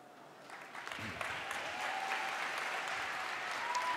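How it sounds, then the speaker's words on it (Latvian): A large crowd of thousands applauds at a youth event for its first speakers, a dense, steady wash of clapping that swells after the first second and holds, heard from a distance at low level. "Aplausi mūsu pirmajiem runātājiem"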